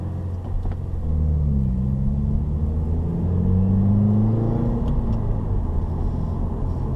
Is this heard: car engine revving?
yes